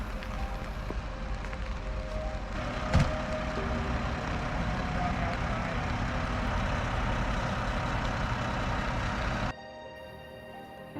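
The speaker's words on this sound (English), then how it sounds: "The pumper truck arrived first to get into position and set before the mixer arrives" A concrete pumper truck arrives and maneuvers into position at a building site, its engine a steady, loud diesel rumble with a brief clunk early on, before the noise drops off abruptly near the end.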